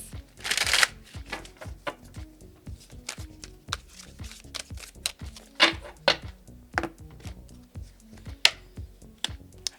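Tarot cards shuffled and drawn by hand, opening with a brief riffling burst and then a long run of soft, irregular taps and flicks as cards are handled and laid down, close and quiet.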